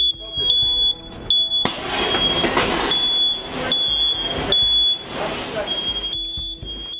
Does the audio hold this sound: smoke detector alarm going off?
yes